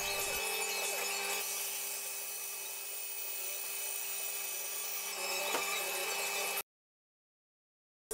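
A bench-mounted belt sander runs steadily, grinding small wooden parts with a continuous abrasive whir, then cuts off abruptly.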